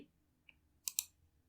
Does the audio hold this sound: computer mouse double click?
yes